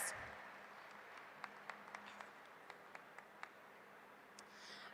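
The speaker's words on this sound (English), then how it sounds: "Let's give all these exhibitors a round of applause for their hard work and dedication throughout this year" Scattered hand claps at a livestock show in Iowa, a handful of sharp separate claps spaced through the middle over a noisy hall background, not full sustained applause.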